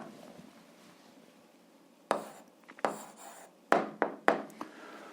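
A pen or marker writes an answer during an 8th-grade algebra lesson, making a quiet background hum and then several short, sharp scratching strokes in quick succession, close by.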